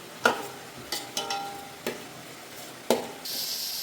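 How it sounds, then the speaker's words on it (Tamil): Onion, tomato and masala sautéing in a pan, with several sharp scraping stir strokes spaced through a low sizzle, ending in a steady brighter hiss. "இந்த மசாலாலாம் இந்த வெங்காயம் தக்காளியோட கொஞ்சம் நேரம் வதங்கட்டும்"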